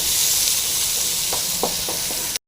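Green chili, garlic and onion fry in a pan for a drumstick leaf stir-fry. A steady, close sizzle runs throughout, with a few short scraping stirs near the end and no talk.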